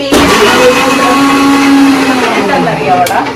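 A mixer grinder whirs loudly as it grinds ginger and garlic into paste, a steady close-up motor whine with shifting pitch that runs without pause for the whole stretch.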